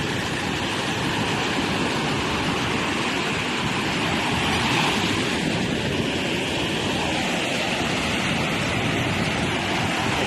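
Loud, continuous wash of blue sea water, a broad roaring surge with wind noise over the microphone.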